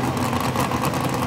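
A Dodge pulling truck with a big Hemi engine roars at a county fair truck pull, a loud, continuous, throbbing engine rumble sustained throughout the short moment.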